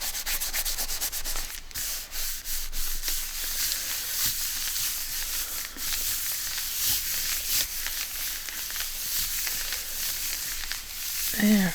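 Journal cards are rubbed by hand in a continuous close, dry, papery scraping and swishing that runs steadily throughout at moderate loudness.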